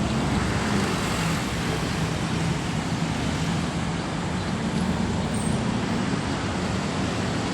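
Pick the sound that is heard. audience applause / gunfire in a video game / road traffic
road traffic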